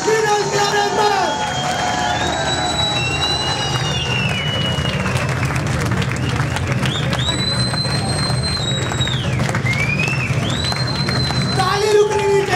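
Continuous crowd applause and cheering from an audience at a live stage event, with a steady wash of clapping throughout and whistles and whoops rising over it, loud and sustained for the whole stretch.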